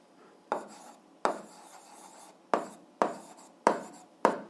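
An algebra equation being written by hand, with six sharp strokes and taps of a pen or chalk, each starting abruptly and trailing off, close and fairly quiet.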